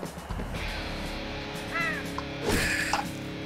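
A bird caws in the video game Slain, two or three harsh crow calls rising over a steady game soundtrack with heavy low drones, fairly close and clear.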